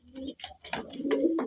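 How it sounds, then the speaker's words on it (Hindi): Several pigeons coo in soft, throaty bursts, close by and overlapping, with brief pauses between calls. "ठीक है दोस्तों, ये रहे सारे कबूतर।"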